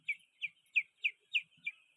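Small birds in a bird shed give six evenly spaced, high chirps about a third of a second apart, clear and close against an otherwise quiet background.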